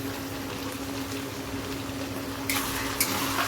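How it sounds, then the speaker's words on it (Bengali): Chopped tomatoes and green chillies frying in a pan for Punjabi-style chana masala, a steady soft sizzle with a faint hum throughout and brighter bursts of crackle near the end as the mix is stirred. "এখন আমি ভালো করে একটু ভাজা ভাজা করে নিই"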